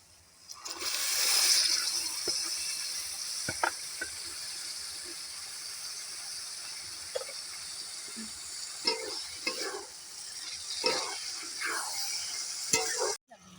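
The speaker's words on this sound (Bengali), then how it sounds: "এবারে বাঁধাকপি আর টমেটোটা দিয়ে দেবো।" Cabbage and tomato frying in a spiced masala, with a steady broad sizzle throughout and scattered scraping clinks of a spoon stirring the pan, close and moderately loud.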